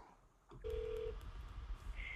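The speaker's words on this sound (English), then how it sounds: "You should be able to call your phone number and get a call that sounds something like this." Telephone call placed to a Twilio restaurant pizza-ordering line connecting: a single short steady tone after a brief click, then an open line hiss with faint low rumble, no voices.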